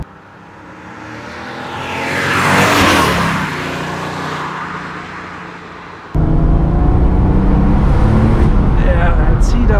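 A 1989 Porsche 911 3.3 Turbo Cabriolet with a 5-speed gearbox pulls hard under acceleration, its engine note swelling and rising then easing, before a loud, steady roar of engine and wind takes over from inside the car.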